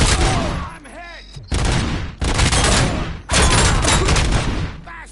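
Bursts of gunfire from a Robocop scene: three or four loud, dense volleys of shots, separated by brief gaps, with shouted voices between them.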